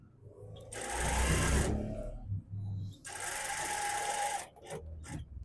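An electric sewing machine stitches fabric in two close, steady runs of whirring, separated by a brief pause, with the motor stopping and starting again.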